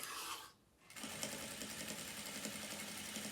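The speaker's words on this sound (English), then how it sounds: "Then I want to run a line of stitching all the way down here." A sewing machine runs a line of stitching down the pleated edge of a fabric face mask, a steady close mechanical whir that stops for a moment, then resumes and carries on without a break.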